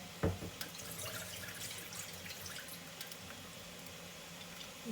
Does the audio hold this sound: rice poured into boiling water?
yes